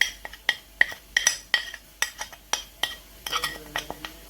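A spoon stirs a tuna filling seasoned with salt, pepper, paprika, cumin and parsley in a bowl for brik, making quick rhythmic clinks and scrapes close by with no talking.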